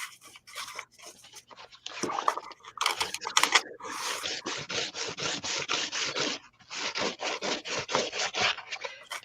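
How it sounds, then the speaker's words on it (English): Sandpaper rubs by hand in a casual art session, making close, rapid rasping strokes in bursts with short pauses, the scratching growing denser and more rhythmic in the second half. "I found some sandpaper, and this really does work"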